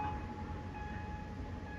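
Train on the southern and northern lines rolling through the Si Ayutthaya Road railway level crossing in Bangkok, heard as a brief, steady, distant rumble with faint high squealing tones and no voices.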